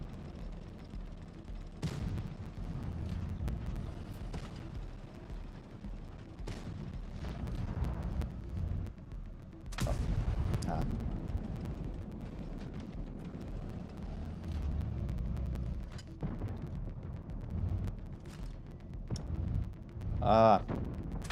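Tank cannon fire in World of Tanks Blitz during a tournament match lands as scattered, fairly muffled booms every few seconds over a constant low engine rumble and battle noise.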